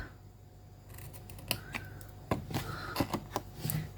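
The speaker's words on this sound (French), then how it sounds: "on coupe et on va biseauter" Cardboard cake box being cut and bevelled, a few sharp snips and scraping cuts after a quiet start, close and irregular, with no talk.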